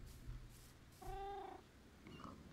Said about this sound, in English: Let's see the cat.